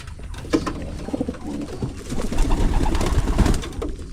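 Pigeons coo repeatedly at close range during hand-feeding, soft throaty calls rising and falling over a steady background with a few small handling noises.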